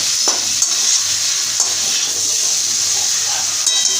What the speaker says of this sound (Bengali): আস্তে আস্তে করে আরও কিছুক্ষণ কষাবো।